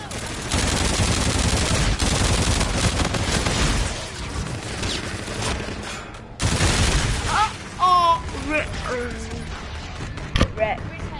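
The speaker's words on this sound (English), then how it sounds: "This is the gun! HVR!" Rapid automatic gunfire and explosions from the Call of Duty: Infinite Warfare video game, dense and continuous, with bursts, booms and game effects. Excited talk is heard over it.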